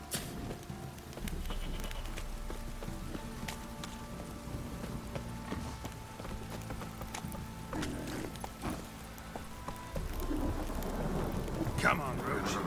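Steady rain with rolling thunder in a Witcher 3 game scene, with hooves clip-clopping through it and faint voices beneath, a continuous wash of moderate loudness that swells toward the end.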